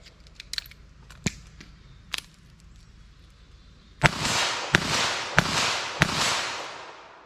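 Four loud, sharp .22 Magnum gunshots fired with Hornady Critical Defense Lite ammunition crack outdoors in a steady rhythm, each ringing out briefly, after a few quieter clicks and handling noises.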